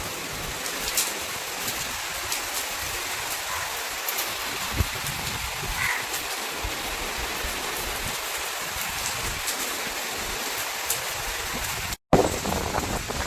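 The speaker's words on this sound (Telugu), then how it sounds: "ఇవాళ అయితే ఉగాది పండుగ రోజు అయితే వర్షం పడుతుంది" Steady outdoor rain falls in a continuous hiss, with scattered droplet patters standing out, close and even throughout, with one brief dropout near the end and no talking.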